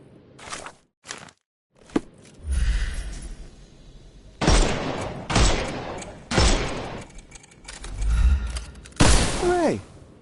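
In the Sherlock Holmes Chapter One game, a handful of sharp gunshots crack out one by one, loud and close, with booming low thuds, short gaps between them and brief voice sounds near the end.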